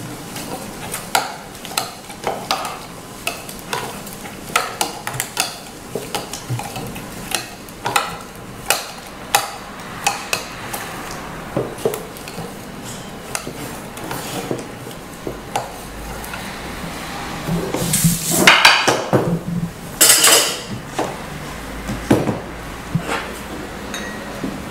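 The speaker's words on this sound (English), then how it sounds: "We're gonna muddle it." A lime muddled with cloves for a Ti Punch cocktail gives repeated soft pressing and knocking taps, with a few clinks of glass and utensils, close up and fairly quiet, growing busier near the end.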